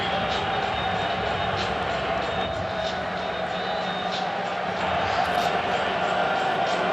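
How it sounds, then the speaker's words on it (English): Dense, steady roar of a stadium crowd at a UFL football game between the Arlington Renegades and St. Louis Battlehawks, a loud continuous wash of voices with no pauses. "There's too much noise in this crowd."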